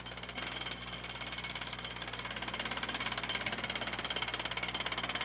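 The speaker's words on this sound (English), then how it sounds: "Rapid staccato impulses pass from hammer to pile, causing soil in motion, and the pile sinks effortlessly into the silt." A vibro hammer drives piles into silt for a deep sea dock at a mine, a steady, loud, rapid staccato pounding with a droning engine underneath, continuous and unbroken throughout.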